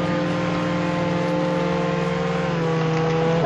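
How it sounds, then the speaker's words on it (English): A long train rolls past in the Roblox game Jailbreak with a steady, droning mechanical hum of layered tones. It stays loud and constant throughout and swells slightly near the end. "This train's going on forever."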